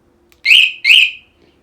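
Two loud, close chirps in quick succession from a motorcycle alarm on a TZR as it unlocks by remote, with near silence before and after.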